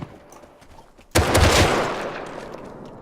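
Semi-automatic rifle gunfire in a video game: faint clicks, then one loud close shot or short burst that rings out and decays over about two seconds.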